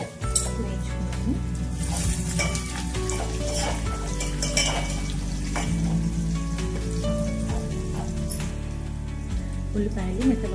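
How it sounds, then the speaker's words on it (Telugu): Sliced onions softening in a pan for tangy chinthakaya pappu charu, a continuous sizzle under scraping and stirring, with steady music or hum in the background. "ఉల్లిపాయ కాస్త మెత్తగా అయ్యే వరకు వేయించుకున్నాను."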